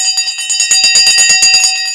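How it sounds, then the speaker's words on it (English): A stock exchange style morning bell rings rapidly and continuously, a bright metallic clanging with steady rapid strikes, loud and close, with no voices over it. "It's the morning bell."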